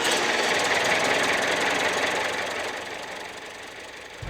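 Original engine of a REO Speedwagon hearse running steadily up close, a loud rough mechanical drone with a knocking, vibrating texture that eases off slightly toward the end.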